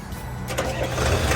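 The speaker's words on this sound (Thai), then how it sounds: "มาสตาร์ทเครื่องให้ดูกันหน่อยนะครับ" A Sakai T2 seven-wheel pneumatic tire road roller's diesel engine cranks and catches, its low rumble building into a steady idle, close by.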